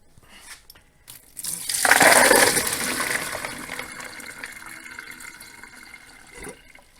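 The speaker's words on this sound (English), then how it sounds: "I'm just going to give them a rinse with some cold water" Cold running water gushes loudly from a tap over beans for several seconds, splashing and rushing, then tapers off as the flow eases.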